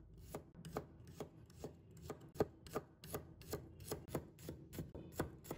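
A knife chops garlic cloves into slices on a cutting board, with crisp, evenly spaced strikes about twice a second, close and clear, and no voices.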